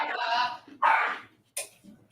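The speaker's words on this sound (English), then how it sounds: "If you guys heard the dogs barking." Dogs bark in three separate bursts, the first longer and the next two short and sharp, fairly close and loud over a quiet room background.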